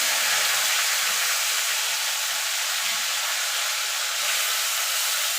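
Whole cumin seeds and a ginger and green chilli paste crackle in hot oil, a steady broadband sizzle holding close and even from start to finish, with no voices over it.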